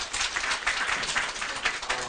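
People at a data-talent recruitment briefing clap to welcome a speaker from Korea Electric Power Corporation. The applause is dense and continuous, a steady wash of many hands at moderate loudness for about two seconds.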